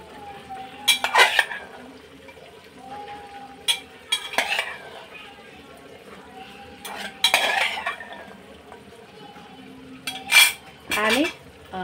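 A metal spoon scrapes and clinks against a pan in several short bursts as cooked peas are added and stirred into a simmering oil-based masala for matar paneer. Quiet sizzling continues between the stirring bursts.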